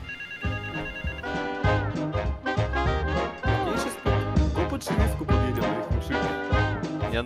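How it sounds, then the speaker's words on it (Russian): A phone ringtone plays in the game GTA 5 RP, a repeating musical melody with a regular pulsing beat, heard clearly and fairly loud with no talking over it. "Телефон."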